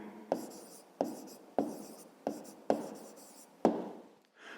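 Writing down the answer to a fifth-grade math word problem: six distinct pen strokes scratch across paper at a steady pace, close-up and moderately quiet, alone.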